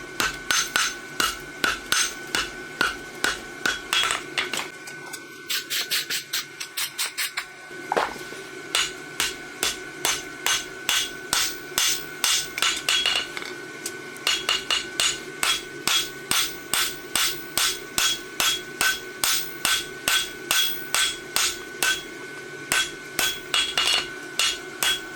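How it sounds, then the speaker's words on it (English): Steady, evenly spaced hammer blows ring out on an anvil as a hot roadster horseshoe branch is forged, dozens of sharp metallic strikes close by with a brief pause partway through. "Now we'll start forging our branch."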